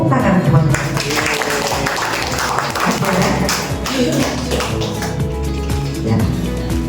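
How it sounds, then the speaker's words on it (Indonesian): Audience applause at an Indonesian teachers' good-practice sharing session, steady clapping running throughout alongside music or background sound. "Tepuk tangan semuanya."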